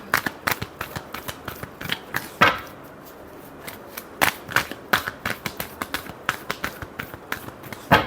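Tarot cards being shuffled by hand: quick crisp riffles and slaps in uneven bursts, close and clear, with a brief pause before the shuffling picks up again.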